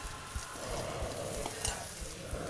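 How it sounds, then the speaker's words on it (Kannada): Cumin, crushed garlic and green chillies fry in oil for tempering with salt and turmeric, a soft continuous sizzle with occasional stirring knocks, close and moderately quiet. "ಸ್ವಲ್ಪ ಉಪ್ಪು ಮತ್ತು ಸ್ವಲ್ಪ ಅರಿಶಿನ ಹಾಕಿ ಫ್ರೈ ಮಾಡ್ಕೊತೀನಿ"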